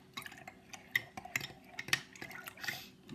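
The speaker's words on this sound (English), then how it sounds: "I'm just going to stir this a little bit" A spoon stirs milk in a bowl, giving a few sharp clinks against the dish among soft liquid swirling, intermittent and close.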